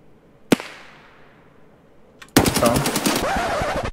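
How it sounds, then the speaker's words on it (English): A single gunshot crack rings out early, then after a short quiet a loud, sustained burst of automatic gunfire fires through a wooden crate in the video game Escape From Tarkov, close and dense to the end. "So I decided to start shooting through the crate"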